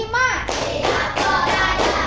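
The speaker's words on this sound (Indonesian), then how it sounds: "tepuk 1, tepuk 2, tepuk 3, tepuk 4, tepuk 5." A classroom group claps out a counted rhythmic pattern of five, sharp hand claps and taps coming in quick bursts over a short stretch, with a voice faintly mixed in.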